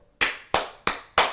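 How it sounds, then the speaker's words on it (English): Four sharp hand claps made with hands crisscrossed, evenly spaced and loud, each ringing briefly before the next, with no talking. "hands crisscrossed. You know what I'm saying? That's how you clap."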